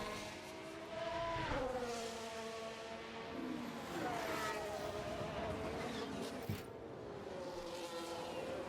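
Formula 1 cars in F1 Manager 24 at the Canadian Grand Prix whine past with rising and falling engine pitches, several overlapping cars droning at moderate loudness through the whole stretch.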